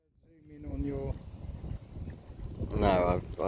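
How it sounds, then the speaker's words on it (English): Strong wind buffets a camera microphone outdoors beside a canal arm, making a loud, rough low rumble that swells and gusts under a voice throughout. "It's ever so windy. I'm going to have to shield the microphone on the camera."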